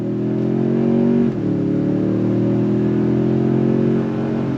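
A 2025 Toyota Tundra 1794 Edition pickup with a twin-turbo V6 and 10-speed automatic accelerating hard, its engine drone loud and steady from inside the cab, with a brief dip at one gear shift before pulling strongly again.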